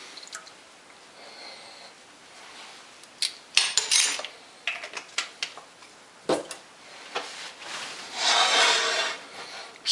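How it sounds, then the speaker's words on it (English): Homemade vanilla extract being stirred into a pot of pancake syrup, with scattered scraping and clinking of a utensil against the pan, irregular rubbing strokes and a few louder knocks, close and fairly quiet. "Stir that in"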